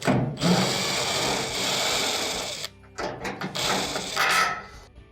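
A screwdriver backs out the Phillips screws holding the top of a dryer console during a drive belt repair, giving a steady mechanical whir that pauses briefly near the middle before resuming in shorter bursts.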